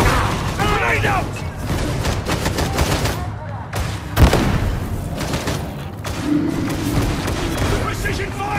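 In the video game Warhammer 40k Darktide, a grenade blast booms amid sustained rapid gunfire, loud bursts and a deep thump over constant battle noise, with character voices shouting over the fighting.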